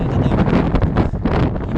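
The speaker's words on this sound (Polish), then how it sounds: "troszkę chłodno, bo wie, zimny wiatr" Wind buffets the microphone in loud, rumbling gusts, a rough roar swelling and dipping with no other sound.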